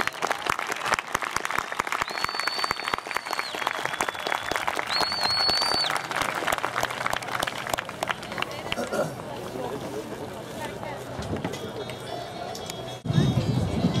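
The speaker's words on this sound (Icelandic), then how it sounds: "eigum við ekki að gefa hann gott klapp" An outdoor crowd claps at an Icelandic horse show in Víðidalur, brisk applause fading over several seconds while someone talks on the loudspeaker, with a brief whistle and murmuring afterward.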